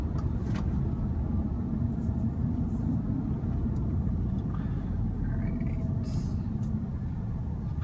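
A 2015 Audi S3 quattro on Blizzak WS80 tyres rolls through snow into a driveway, a steady low engine and road rumble inside the cabin with faint creaks, and someone speaks briefly.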